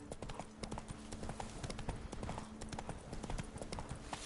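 Roach, the horse in The Witcher 3, gallops in a quick, even clip-clop over a busy, noisy game soundscape.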